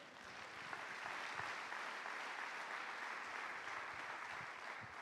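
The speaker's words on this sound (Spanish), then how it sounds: "Dale un aplauso al Señor." Church congregation applauding during a service, a broad continuous wash of clapping that swells in and holds steady, heard at a slight distance and fairly soft.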